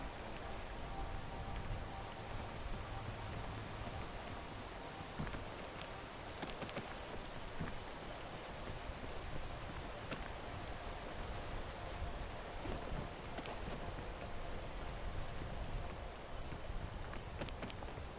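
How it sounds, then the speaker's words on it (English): Steady rain in the video game Peak, a dense, even hiss of drops pattering on surfaces that holds at a constant level throughout with no pauses. "Worst possible time for it to start raining."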